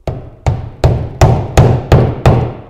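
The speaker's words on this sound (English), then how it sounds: "Hammer it in just a little bit." Seven evenly spaced hammer blows drive a wooden plug into a hole in a kayak, each strike a loud, close, ringing knock.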